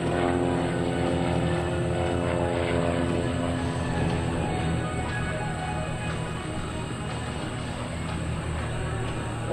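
Aerobatic airplanes fly hammerhead maneuvers in formation at a 2003 Willow Grove air show, their engines a loud, steady propeller drone that fills the whole stretch and stays close and constant.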